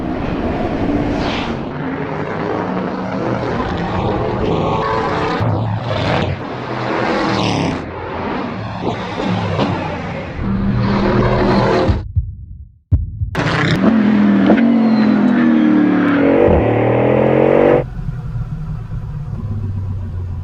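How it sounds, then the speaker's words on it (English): A Bugatti Bolide hypercar roars along a race track, its engine revving hard and building in pitch through repeated upshifts, loud and close, with a brief cut before the high-speed acceleration resumes. "This car accelerates like nothing else I've ever experienced"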